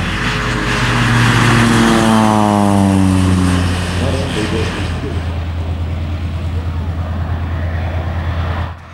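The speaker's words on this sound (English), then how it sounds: "This air tractor, 402B, is flown by John Bargh from Masterton" An Air Tractor 402B agricultural plane with a 680 horsepower turboprop engine passes close and loud in a spraying display, its whining pitch sliding downward as it flies by, then settling into a steady fading roar.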